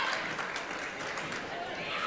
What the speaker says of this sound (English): Interesting, or kind of cool to see the Hill City contingent over there cheering on the Custer wrestler